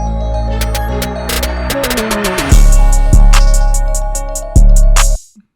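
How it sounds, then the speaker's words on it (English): A trap-style FL Studio beat builds through a rising transition sweep into a heavy entrance of deep 808 bass hits and bright hi-hat ticks, then cuts off abruptly at the end, loud with no speech. "Next I added some rises and transitions to it."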